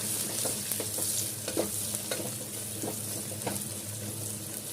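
Onions and curry leaves fry and sizzle steadily in hot oil while being stirred with a spoon in a pan for goat head curry, with continuous crackling and brief scraping strokes throughout, no voices.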